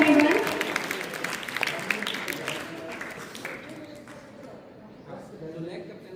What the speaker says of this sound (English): Welcome them with a great round of applause, everyone.